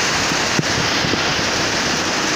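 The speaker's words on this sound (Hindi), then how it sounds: "बारिश मूसलाधार हो रही है" A heavy monsoon downpour in Mumbai, with strong wind, pours down as a dense, loud, unbroken hiss, with a single sharp knock partway through and no talking.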